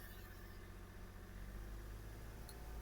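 A Kia Rio engine with a diesel particulate filter pressure fault runs steadily at a held mid-range speed, a continuous low hum and drone with no speech over it.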